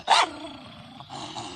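A chained dog lets out one loud, sharp bark up close, then keeps up a low, rumbling growl with a few snarling surges.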